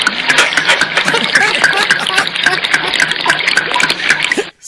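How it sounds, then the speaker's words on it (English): A drink poured from a bottle, a steady splashing liquid stream running continuously for several seconds, close and fairly loud, then stopping abruptly at the end. "he's pouring us a drink"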